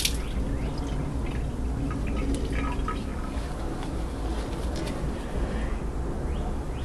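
Water running over an eGo-C atomizer coil during rinsing, a steady splashing, trickling stream with faint drips and no talking.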